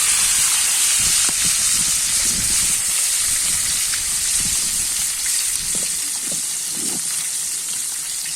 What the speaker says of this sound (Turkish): Nar gibi kızarıyor arkadaşlar.